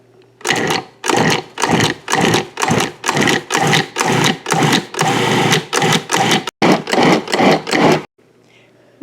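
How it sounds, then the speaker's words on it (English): A food processor blends egg yolks, sour cream and dough in repeated short pulses, about a dozen loud whirring bursts separated by brief gaps, then stops. "Now we're going to blend this all together."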